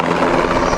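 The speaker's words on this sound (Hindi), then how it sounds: "यह हेलीकॉप्टर हेलीपैड पर डांस कर रहा है" A helicopter spinning out of control over the Kedarnath helipad gives off a loud, steady rotor and engine roar, close and unbroken for a brief moment.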